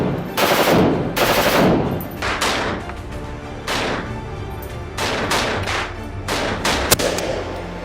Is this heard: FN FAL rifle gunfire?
yes